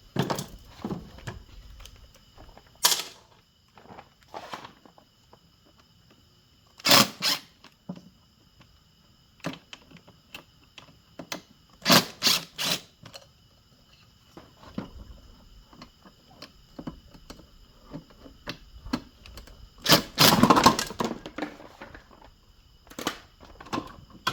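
Screws being removed from the cover of a Toro electric mower with a square-head bit, heard as scattered sharp clicks, ticks and scrapes of metal and plastic at irregular intervals, close and quiet between bursts.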